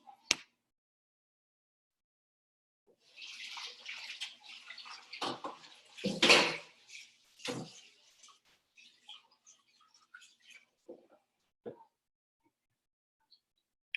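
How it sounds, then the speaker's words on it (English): Hands washed under running tap water in a home kitchen during bread making: a burst of splashing and trickling of several seconds, then scattered drips and small splashes, close and moderate in level. "Let me wash my hand real quick"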